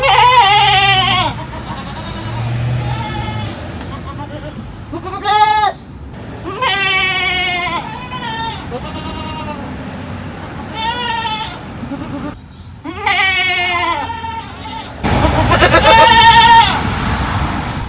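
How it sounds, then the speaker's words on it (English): Goats on a farm bleat loudly and close by, a string of wavering, nasal calls one after another with short pauses between them, and a burst of rustling noise near the end. "hear the thunderous applause of what goats sound like right up in your ear space right now"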